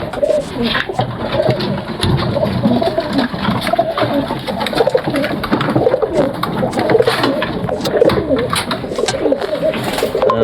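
Pigeons coo steadily in a home pigeon loft, a dense layered chorus of low throaty calls with flutters and shuffles, loud and continuous throughout.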